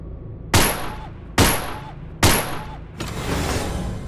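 Three loud, sharp gunshots about a second apart in the PSVR shooting game Gun Club VR with its S.W.A.T DLC, each with a ringing tail, followed by a steady rushing noise.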